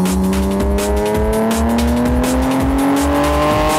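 A modified Nissan GT-R R34 with turbos revving hard, its engine note rising steadily in pitch as it accelerates, loud and close, with rhythmic low pulsing underneath and no voices.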